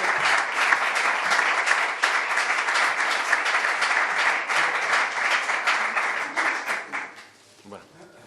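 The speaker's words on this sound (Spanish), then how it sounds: "por favor os pido un aplauso más especial" Sustained audience applause at a talk on fandango, dense rapid clapping holding steady for several seconds before thinning and fading out, with faint voices underneath.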